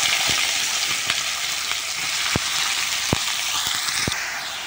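Bitter gourd and onion fry in hot oil in a kadai, giving a loud, continuous close sizzle punctuated by a few sharp clicks from stirring, with no talking.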